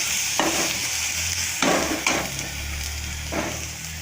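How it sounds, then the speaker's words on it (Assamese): Onion and garlic fry in a pan with chopped tomatoes added, a steady close sizzle punctuated by several sharp spatula scrapes and stirs. "পিঁয়াজ নহৰুখিনি ভালকৈ ভাজিব লাগিব, যাতে কেঁচা গোন্ধটো নাথাকে।"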